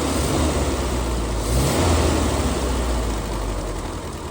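A 1980 MGB Limited Edition Roadster engine runs at a steady, close idle, a dense low rumble that holds with little change in loudness throughout.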